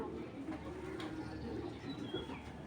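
Pigeons kept for their colouring coo in a low, soft, continuous murmur, fairly quiet, with a faint hint of a voice somewhere in the background.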